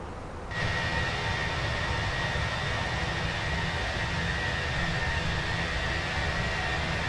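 Steady, loud broadband roar filling the Fenix A320 flight deck in Microsoft Flight Simulator during a Brisbane to Adelaide flight, switching on abruptly and then holding constant like airflow and engine noise, with no voices.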